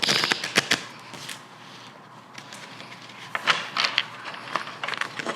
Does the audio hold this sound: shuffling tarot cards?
yes